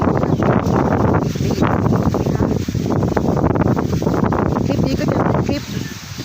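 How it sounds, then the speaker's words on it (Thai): Strong cold wind buffets the microphone in open rural country beside a canal and fields, a loud continuous roar and rustle throughout with no clear speech over it. "มันลมแรง เดี๋ยวตกคลอง"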